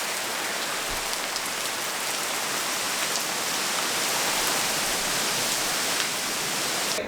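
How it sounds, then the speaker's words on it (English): Wind-driven rain pelts surfaces outdoors on a stormy day during a house renovation, a steady dense hiss that stays loud and unbroken throughout with no voices. "it is the wind aggressively throwing the rain around"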